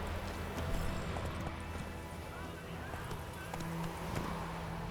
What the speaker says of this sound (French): Oh là, le cheval.